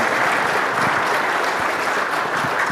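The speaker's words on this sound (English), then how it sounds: "Let's give them all a round of applause." Steady applause from the audience at a progressive Christianity panel discussion, a continuous even clapping that fills the short stretch without a break.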